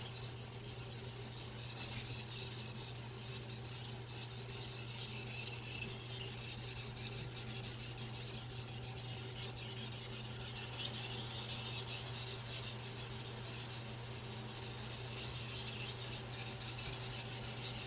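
Steady, even rasping of a Victorinox 8-inch chef knife stroked across wet Chosera whetstones, continuous and rhythmic over a low steady hum, with no talking.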